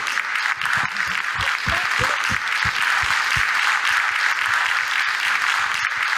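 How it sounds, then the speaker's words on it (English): Audience at the first Middle East Vegetarian Congress applauding volunteers called onstage, a continuous dense round of clapping with some closer individual claps standing out, held at a steady level throughout. "A big round of applause, please."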